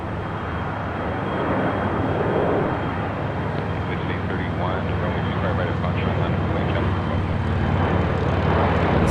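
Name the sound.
Frontier Airbus A320neo arriving at LAX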